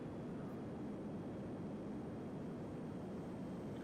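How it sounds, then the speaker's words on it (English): A propeller plane's engine drones in the Simple Planes video game, a steady, faint, unbroken hum with no voices over it. "That's just a prop plane."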